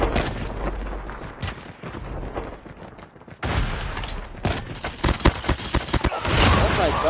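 Rapid pistol shots and bursts of gunfire in the Call of Duty Mobile battle royale mode crack out loud and close, with dense rattling volleys, a brief lull near the middle, then sharp separate shots.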